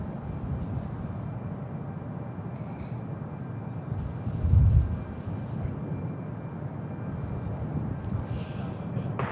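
A Boeing 777 departing San Francisco airport, a distant, faint jet roar that swells briefly near the middle over a steady low background rumble.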